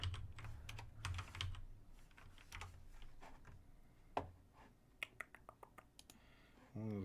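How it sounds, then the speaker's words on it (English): Computer keyboard typing, bursts of quiet clicking keystrokes with pauses, a few sharper isolated taps near the end, heard alone at low level. "typing it up"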